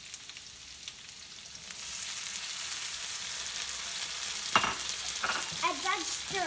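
Peas and fried rice frying in a pan, a steady close sizzle that thickens partway through, with scraping stir noises near the end and no talk.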